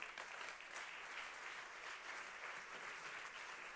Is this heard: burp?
no